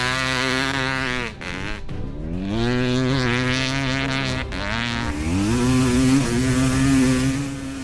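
Dirt bike engine, either the most powerful two-stroke or four-stroke, revs hard on a lap, loud and close with rising and falling pitch as it shifts gears, brief drops for turns, no talk.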